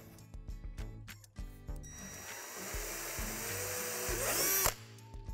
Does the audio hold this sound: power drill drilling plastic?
yes